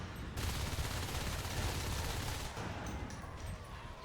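Gunfire in Natural Selection 2, a dense stretch of rapid shots forming a loud, steady rattle that drops off sharply near the end, followed by a few thin high tones.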